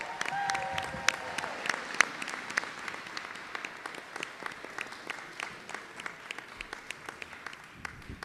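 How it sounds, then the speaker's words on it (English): An audience applauds a children's performance at a school board meeting with steady, sustained clapping from a moderately sized crowd, heard somewhat distant in a large room. "Can we have another round of applause for them?"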